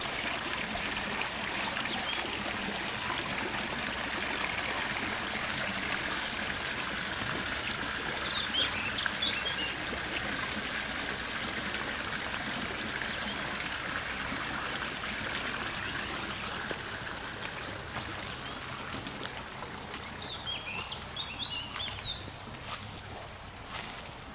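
Water trickles steadily at a garden pond on a spring walk, a soft continuous babble with faint birdsong chirping now and then in the background.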